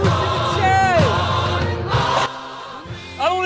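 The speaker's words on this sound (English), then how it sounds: "You can hear the boos roaring in from the crowd" An in-game crowd boos through a tournament match in a video game, a loud steady roar with rising and falling tonal game effects cutting through it before it briefly drops away.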